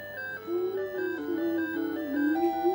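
Chiptune-style video game music from a Tandy 1000 TL/2 computer's three-voice sound chip, with steady square-tone melody lines stepping between notes, played continuously and fairly loud with no talking.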